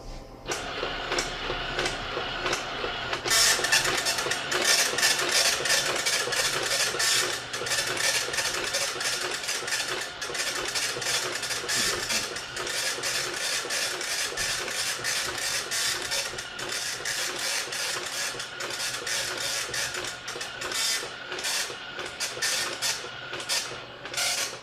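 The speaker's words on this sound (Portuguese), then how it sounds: "São aquelas impressoras que fazem um barulho muito estrondoso e que elas, então, utilizam essa fita para poder marcar os pontos no papel" A dot matrix printer using an ink ribbon prints continuously, giving a loud, rapid, buzzing rattle in repeated bursts separated by brief pauses as the print head sweeps back and forth, with no speech.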